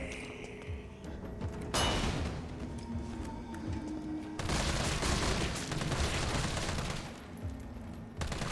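A flashbang grenade blasts in Resident Evil 3 Remake, with sudden loud bursts and crackling debris amid dense, continuous game combat noise.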